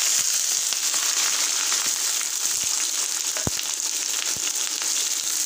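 Garlic and small chopped onions fry in a pan for pav bhaji masala, a steady dense sizzle filling the whole stretch with a few sharp crackles and pops, close and loud with no talking.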